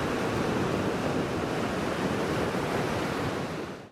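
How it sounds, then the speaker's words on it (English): Atlantic surf and wind batter the volcanic outcrops of Lanzarote's coast in a dense, unbroken roar close to the microphone, holding steady before cutting off abruptly at the end. "It is the special mix of Atlantic waves and winds hitting the volcanic outcrops that makes"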